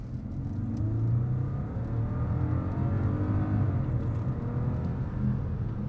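A 620-horsepower Bentley Mulliner accelerates hard from inside the cabin, a deep, steady engine drone that rises in pitch with speed, with no voices.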